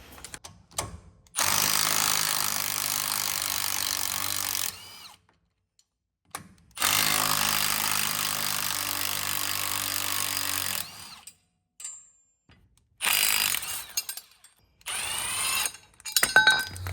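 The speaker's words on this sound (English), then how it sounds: "I'm going to be using a 13mm socket to remove these 3 bolts, securing the steering stabilizer mount to the front axle" Impact or power tool with a 13mm socket spinning off the three bolts holding a steering stabilizer mount to a truck's front axle, in two long loud runs of steady whirring, then shorter bursts, with quiet gaps between.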